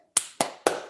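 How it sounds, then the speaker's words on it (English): Three slow, deliberate hand claps ring out close and crisp, evenly spaced about a quarter second apart. "Slow clap for Jay, everyone"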